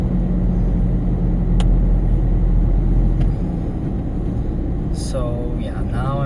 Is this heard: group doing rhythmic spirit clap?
no